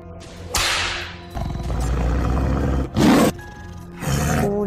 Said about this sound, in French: Felindra, faire entrer les tigres.